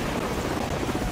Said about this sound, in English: Sir, we've got company. Helicopter troops closing in fast.